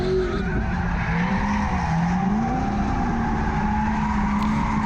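Tires squealing continuously on a car drifting, a loud sustained screech with wavering pitch over a steady engine roar, close and without pause.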